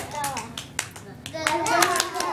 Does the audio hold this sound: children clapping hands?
yes